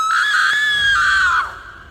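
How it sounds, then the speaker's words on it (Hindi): A woman lets out a loud, sustained high-pitched scream as a horror sound effect. It holds steady, then bends downward and fades out near the end. "वो जोर से चिल्लाती है।"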